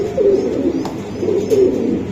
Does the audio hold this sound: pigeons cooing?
yes